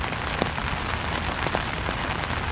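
Steady rain falls outdoors, a dense even patter of drops on surfaces with a few sharper individual splats, continuous and fairly loud.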